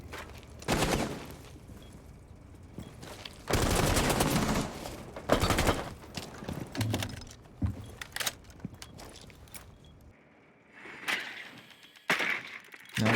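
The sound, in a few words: gunfire in video game Rainbow Six Siege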